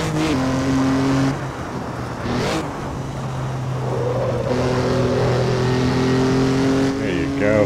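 A Jaguar C-Type race car in Assetto Corsa, racing around Feldbergring, its engine droning steadily with pitch shifts as it revs and changes gear, loud and continuous throughout, with someone talking over it.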